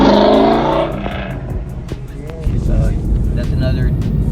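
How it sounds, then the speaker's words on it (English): A 2020 Ford Mustang revs loudly as it passes on the road, a throaty engine note swelling then fading into tire and traffic rumble, with people talking over it. "I believe that's a 2020 Ford Mustang. Dude, look at the sound of it."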